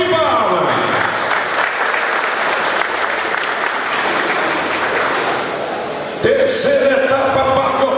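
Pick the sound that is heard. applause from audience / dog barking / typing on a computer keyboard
applause from audience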